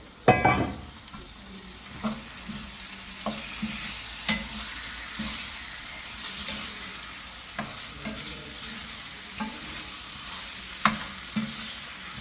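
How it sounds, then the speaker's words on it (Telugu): Chicken pieces fry in a pan for gongura chicken curry, a soft continuous sizzle punctuated by regular stirring scrapes and light clanks of the spoon against the pan, no speech. "నా చికెన్ కూడా ఇప్పుడే ఫ్రై అవుతుంది"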